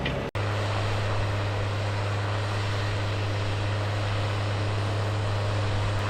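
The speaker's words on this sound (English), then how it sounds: "This tractor does not only have a distinctive exhaust note" A Case IH Puma 210 tractor engine runs at a steady, loud, close drone with a strong low hum, broken only by a brief dropout just after the start.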